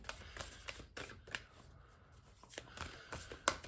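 Tarot cards being shuffled by hand: a series of quick papery riffles and slaps in uneven bursts, close and crisp, with a brief quieter gap midway and no talking.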